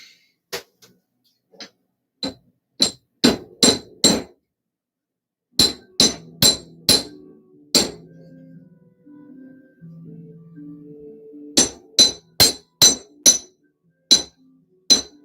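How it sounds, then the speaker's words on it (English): Sharp metallic hammer strikes on wire for wire-wrapped jewelry, made on a hard surface atop a mini fridge, come in quick bursts of three to six ringing taps separated by pauses, with a quieter shuffling stretch in the middle. "when you hammer these things out, by the way, they harden."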